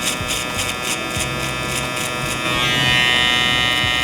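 A zero-gap-style electric hair trimmer cuts hair in a self-administered taper and beard grooming, giving a steady close buzz that shifts to a higher, brighter whine partway through, with no talk over it.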